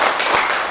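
Standing schoolchildren in a classroom join their teacher in a short, loud burst of a spirit clap, dense overlapping claps close by with no talking.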